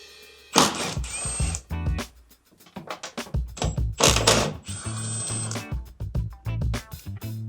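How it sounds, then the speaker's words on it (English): Two 10mm head bolts being removed from the tail light of a third-generation Toyota Tundra, giving bursts of sharp ratcheting clicks and metallic rattles with short pauses between them, close and fairly loud, with no talking. "Next we'll remove the tail light by removing the two 10mm head bolts."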